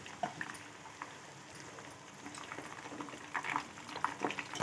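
Hibiscus oil simmers in a pan on a medium flame, giving a soft, continuous bubbling and sizzling with scattered small pops, fairly close and without speech.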